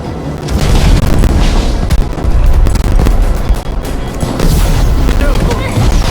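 Fireworks burst in Minecraft: Story Mode, a series of loud booming blasts and crackling pops layered with game noise and a voice speaking.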